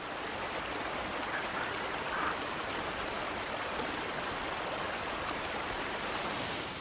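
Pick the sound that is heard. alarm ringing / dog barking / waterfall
waterfall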